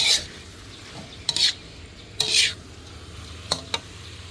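Eel stir-fried with southern Thai curry paste in a pan, with loud bursts of sizzling and scraping stirring strokes coming in irregular strokes over a low background hiss, close up.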